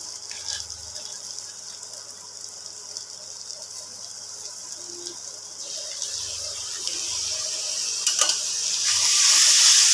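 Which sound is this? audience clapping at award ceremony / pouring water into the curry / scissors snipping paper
pouring water into the curry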